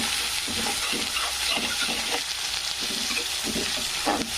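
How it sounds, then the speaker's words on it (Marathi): Chopped tomatoes fry with onion in a pan: a steady, close hiss and crackle of sizzling oil throughout, with soft rhythmic scraping as the mix is stirred. "टमाटर पण छान फ्राय होऊ द्यायचं असं."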